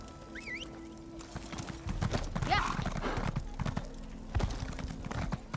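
Horse hooves clip-clop steadily in The Elder Scrolls Online: Morrowind, an even trotting rhythm close by over faint background game sound, with a brief whinny-like call early on.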